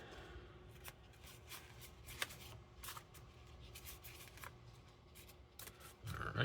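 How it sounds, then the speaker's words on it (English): A deck of playing cards is shuffled and cut at a tabletop stock car racing game, giving a steady run of soft riffling and brushing clicks with a few sharper snaps and a louder flurry at the end, with no talk. "shuffle the cards, give them a cut"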